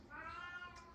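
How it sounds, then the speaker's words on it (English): A house cat meows in one drawn-out, fairly close call lasting about a second, heard alone with no talk over it. "you can hear my cat. That's my cat."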